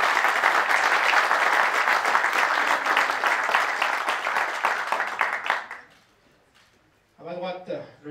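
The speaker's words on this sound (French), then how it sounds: "Vos applaudissements pour Typhoon Altunir." Audience applause fills the hall at a billiards final in Lausanne, loud and steady for nearly six seconds before dying away, then a voice briefly speaks over the quiet.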